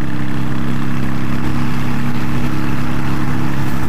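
Honda Shadow Aero 750 motorcycle running at highway speed around 70 mph, a steady loud engine drone with strong low harmonics and constant wind rush, unbroken throughout.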